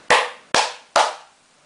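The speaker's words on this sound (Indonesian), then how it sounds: "kita akan masukkan tepuk tangan" Three sharp, evenly spaced hand claps close up, each with a short room echo, used to switch on a clap-controlled lamp.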